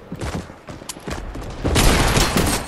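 Rapid bursts of gunfire in the video game Fortnite crackle in quick clusters, getting denser and louder toward the end, with no talking.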